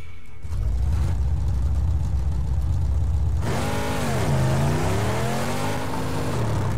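A truck engine in the Mad Max video game starts after a brief quiet, then idles and revs with a rising, dipping roar that stays loud and close throughout, with no talking.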